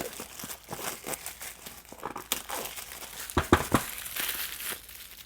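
Plastic wrap crinkles and rustles close by while a OnePlus 7T phone is unboxed. Irregular crackles build into a few sharper crunches near the end, with no talking.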